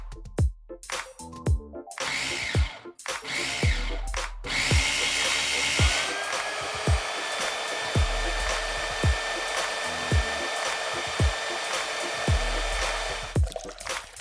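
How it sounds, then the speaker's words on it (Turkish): A loud motorized whirring of a blender pureeing cooked, peeled potatoes runs almost continuously, a steady drone with sharp clicks and knocks scattered through it. "pişmiş patatesleri soyalım ve her birini püre yapmak için bir blenderdan geçirelim"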